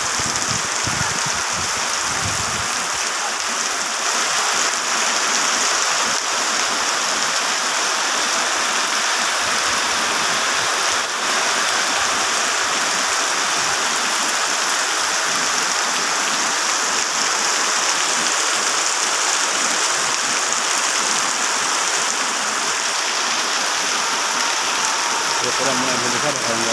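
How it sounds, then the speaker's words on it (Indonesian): Heavy rain pours steadily over a village, a dense broadband roar with no breaks through the whole stretch, close and loud, nearly like a waterfall; a brief spoken remark comes in near the start. "Hujan kuat."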